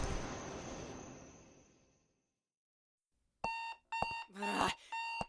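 An alarm clock rings in short repeated bursts of beeping, loud and close, after a stretch of fading noise and a brief silence.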